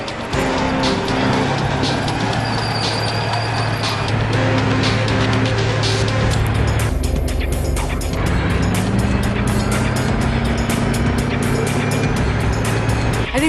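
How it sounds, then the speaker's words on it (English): An army tank is driven and maneuvered over an obstacle course, its engine giving a loud, continuous mechanical roar with a shifting drone and grinding, clanking tones throughout, with no talk. "But it is proving to be a liability whilst driving and maneuvering the tank"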